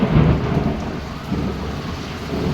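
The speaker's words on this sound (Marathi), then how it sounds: "विजांचा गडगडा" Low thunder rumbles steadily through a heavy unseasonal rain shower with lightning, a deep rolling roar with the patter of rain over it, no voices.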